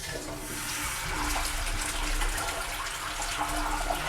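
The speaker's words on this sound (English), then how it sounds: "when you flush, this is a tap. The water will go through this place." Water runs steadily from the tap of a Japanese toilet tank sink after a flush, a constant loud hiss and splash with no pauses throughout.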